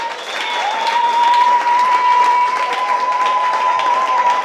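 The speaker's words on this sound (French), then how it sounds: "Acclamez très fort pour eux." Church congregation applauding the parents and siblings of a woman being consecrated, steady loud clapping from a large crowd with a sustained tone running beneath it.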